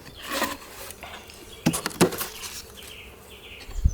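Honey bees fly around a beehive entrance, giving a faint buzzing hum with a few louder passes of bees close by and some wooden knocks and rustles from hive handling.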